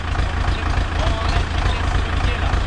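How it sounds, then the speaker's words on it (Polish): A C360 tractor with a front loader runs steadily with its hydraulic pump working, giving a continuous, loud, low engine drone with an even, unchanging rhythm. "No wiem, bo pompa chodzi."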